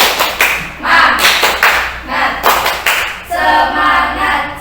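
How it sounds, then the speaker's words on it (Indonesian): A group claps a rhythmic spirit cheer (tepuk semangat) in a counseling session, loud patterned bursts of hand claps in several sets, followed by voices chanting together at the end. "Tepuk semangat. Silakan. Tepuk semangat."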